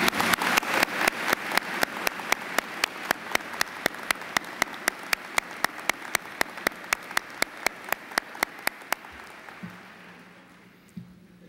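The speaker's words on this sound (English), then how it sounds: "We need to give him an applause for that." Audience applause at a college winter commencement ceremony, with one close, loud clapper beating a steady, even rhythm over a softer wash of clapping that fades out after about nine seconds.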